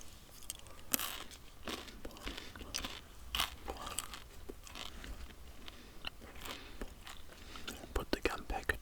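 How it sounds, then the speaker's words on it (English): Close, crisp chewing of a fresh white pellet of PK peppermint chewing gum, with wet clicks and crunchy bites repeating irregularly over a faint hiss. "packet of PK peppermint flavoured chewing gum. A nice white pellet, and I will pop that in my mouth."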